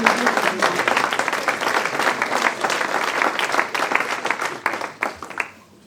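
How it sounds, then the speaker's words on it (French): An audience at a 2023 New Year's wishes ceremony honouring local community figures applauds in a dense, loud burst of clapping that holds steady, then tapers and fades out near the end. "On peut l'applaudir."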